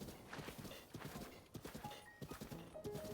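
A horse gallops across open ground in The Legend of Zelda: Breath of the Wild, rapid rhythmic hoofbeats of clip-clop close by with light game ambience and no talk.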